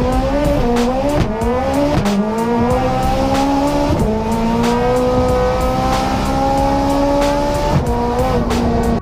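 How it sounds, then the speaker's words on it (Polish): A tuned 1250 hp VW Golf 2 with a two-litre 16-valve engine accelerates hard. The engine note climbs loud and close through several gear changes, with brief dips between shifts and steady high revs throughout. "Ten Golf 2 jest szybszy niż Bugatti Chiron."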